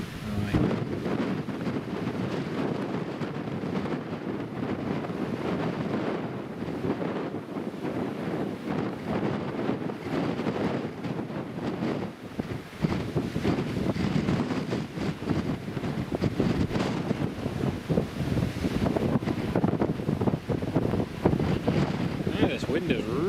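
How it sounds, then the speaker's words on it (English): Strong gusty wind buffets the microphone outdoors at Newcastle International Airport, a steady loud roar of rumbling buffeting that persists throughout with brief dips, speech faintly mixed in. "This wind is really picked up now. Much stronger than it was before."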